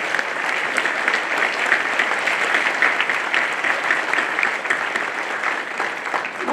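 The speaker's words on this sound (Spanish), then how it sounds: "Pido que corroboremos con un fuerte aplauso." An audience at a secondary school ceremony in Guerrero, Mexico, gives strong, continuous applause, evenly textured and unbroken for over six seconds.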